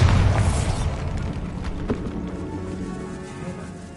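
A Bombarda spell explodes in Hogwarts Legacy inside a bone-lined tomb archway: one deep, heavy boom at the start, then a long rumbling decay with scattered debris clatter.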